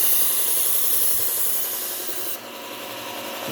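A Victorinox knife drawn across a sharpening surface, a close continuous gritty rasp with a repeating stroke pattern that eases slightly toward the end.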